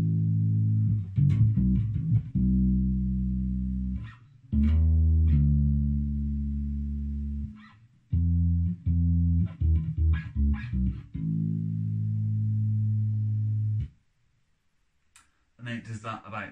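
An electric bass plays a bassline in repeated sustained low notes with short plucked runs and gaps between phrases, close and clean, with a few clicks near the end.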